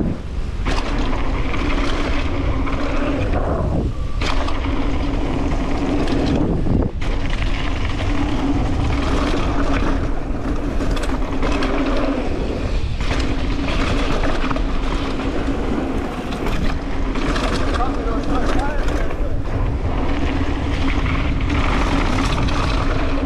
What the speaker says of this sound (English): You can probably hear the brake bumps